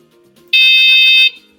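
A Ziren DB140 loud, steady high-pitched electronic horn blares continuously for under a second, harsh and buzzy, with faint background noise before and after.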